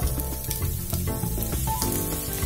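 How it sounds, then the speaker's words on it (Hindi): A large-cut onion frying in a pan for tomato chutney, a dense, loud, continuous sizzle and crackle heard up close without any talk. "अभी हमारा प्याज थोड़ा सा फ्राई होने लगा"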